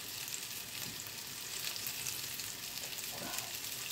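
Cutlets sizzle steadily in a hot pan, a continuous crackling hiss with a few soft scrapes.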